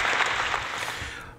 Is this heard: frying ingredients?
no